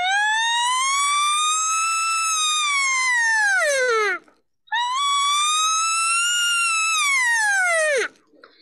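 A human voice imitates an elk cow call: two long, loud, high siren-like wails, each sliding down at the end, separated by a brief pause.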